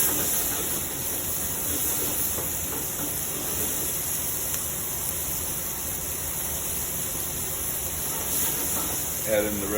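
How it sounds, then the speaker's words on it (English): Shrimp searing in a hot pan with garlic for gambas al ajillo, a steady loud broadband sizzle and hiss running the whole time, with a faint voice near the end. "Get a nice sear on our shrimp."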